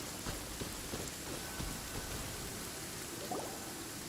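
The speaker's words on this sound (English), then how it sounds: "Quite a downpour. Nothing will get done until it clears." A heavy downpour in the video game Genshin Impact, a soft, even patter of rain on surfaces with scattered droplet ticks, faint and steady with no talking.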